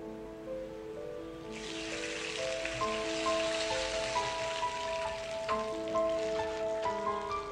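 Water poured into a pan of simmering potato and poppy seed curry gives a steady bubbling hiss that swells after a quiet start and holds loud and close, with no talking.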